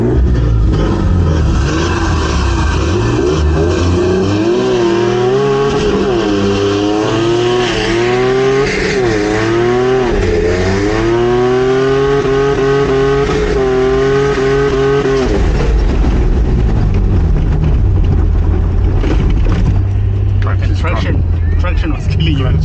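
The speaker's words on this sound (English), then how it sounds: "Sounds like his clutch is slipping" A big-turbo Toyota Land Cruiser at an off-road festival revs hard with a slipping clutch, its engine pitch surging and wavering loudly for about fifteen seconds before settling into a lower rumble, with voices nearby.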